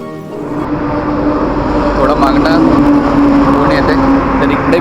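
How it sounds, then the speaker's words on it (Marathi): Steady roar of heavy traffic on a highway on the Mahabaleshwar–Panchgani road beside a roadside hotel, vehicles rushing past close by in a continuous wash of engine and tyre noise. "मी हायवेला आहे त्यामुळे आवाज जास्त येतो गाड्यांचा"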